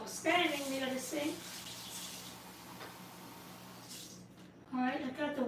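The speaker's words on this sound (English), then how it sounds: "I may just rinse this out with a little water while I'm sitting here near the sink" Water runs from a kitchen tap into a sink as a buttermilk container is rinsed, a steady faint splashing stream beneath a person talking at the start and end.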